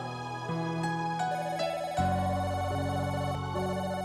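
A telephone rings steadily, a sustained electronic tone with stepped pitch changes running straight through, playing on its own at a moderate level.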